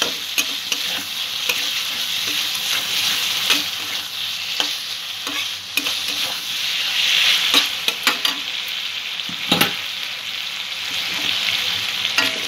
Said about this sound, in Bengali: সবজিগুলো দিয়ে মশলার সাথে কষিয়ে নেব।